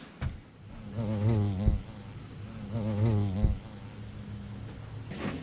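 Insects buzz around a small wild hive, their drone rising in two longer swells with wavering pitch over a steady low hum, with sharp close knocks in between.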